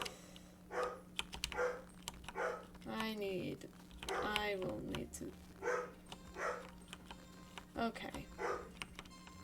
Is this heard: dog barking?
yes